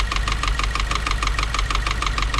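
A Subaru WRX engine runs with a rapid, even knocking tick repeating several times per second over a low idle rumble, close and clear with no talk.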